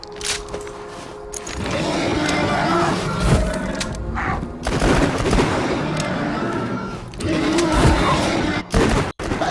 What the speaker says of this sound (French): Ça c'est à verrou, ça veut dire j'appuie une fois, ça tire